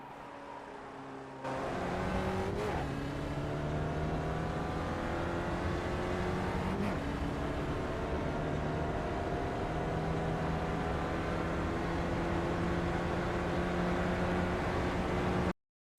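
Spec Racer Ford engine in iRacing on the Sonoma circuit, a steady droning hum holding gear with rising pitch sweeps on two upshifts, loud and close throughout with no talk, cutting off abruptly at the end.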